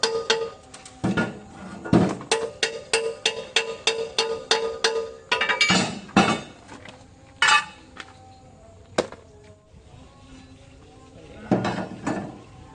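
Hammering on the track link of a Hitachi ZAXIS 70 excavator: a quick run of sharp, ringing metal-on-metal blows, then a few heavier, spaced strikes with brief clanks in between.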